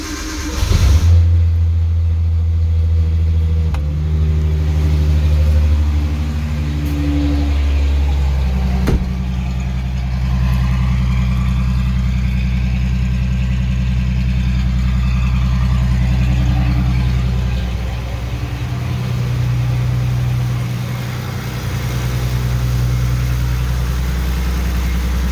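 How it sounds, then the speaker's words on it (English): An E85-fueled car engine in winter cranks, catches and settles into a steady, loud idle, with a low rumbling drone that rises and dips slightly over time. "This thing usually takes 2 cranks because it's an E85 car in the winter."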